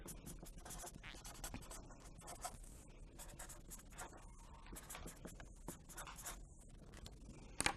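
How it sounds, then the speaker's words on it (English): A pen or pencil scratches across paper as a math model is written out by hand, a close, steady run of short scribbling strokes with brief pauses between them and no talking. "Write the model down originally."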